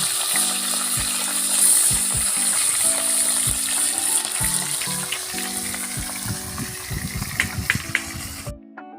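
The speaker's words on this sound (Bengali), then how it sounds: "আমরা বাকি মাছগুলো ভেজে নেব।" Fish frying in hot oil gives a loud, steady, bubbling sizzle that runs throughout, with scraping and stirring knocks and background hum, then cuts off abruptly near the end.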